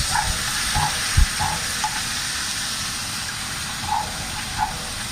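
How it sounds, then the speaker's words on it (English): Finely chopped onions frying in a pot, a steady soft sizzle and hiss running throughout with a few faint clicks and a brief low thump near the middle. "now I'm gonna add in my onions"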